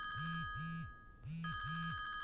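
A mobile phone rings with an incoming call, playing a repeating melodic electronic ringtone in short bursts with a brief pause in the middle, loud and close throughout.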